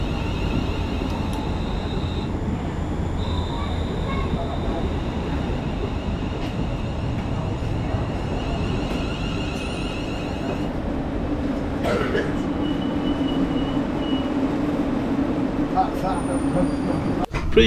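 An EMR Connect Class 360 electric multiple unit, formerly Greater Anglia stock, running on the St Pancras–Corby line: a constant loud rumble and rail roar with whining motor tones and faint clicks, steady for the whole stretch.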